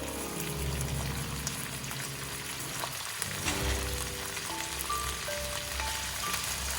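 Onions, red pepper flakes and canned tuna fry in a pan with a loud, continuous crackling sizzle and bubbling, steady throughout with occasional faint scraping.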